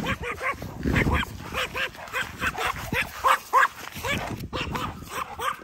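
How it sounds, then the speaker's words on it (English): A French bulldog off leash barks and yips repeatedly in quick rhythmic bursts, close and loud, with whimpering notes mixed in and brief human voices in the background. "That dog will turn you up, Navy."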